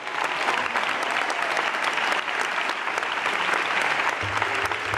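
An audience at a performing arts awards ceremony applauds an a cappella singing group in a continuous, even burst of clapping from a large crowd, with no voices over it.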